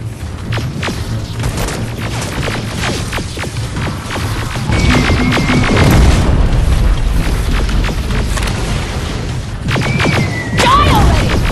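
Grenade explosions in the Terminator Resistance video game, deep booms and dull thuds over a dense, continuous battle din that swells louder midway and stays heavy to the end.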